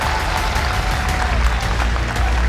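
A large live crowd at an Apex Legends esports event in Raleigh applauds and cheers in a dense, loud, continuous wash of clapping that holds steady throughout.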